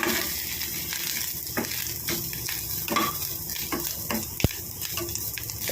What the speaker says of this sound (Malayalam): കടുക് മൂത്ത് നമുക്ക് തേങ്ങ ഇട്ട് കൊടുക്കാം. തേങ്ങ വറുത്തിടാം